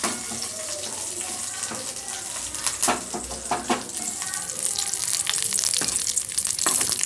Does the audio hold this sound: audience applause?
no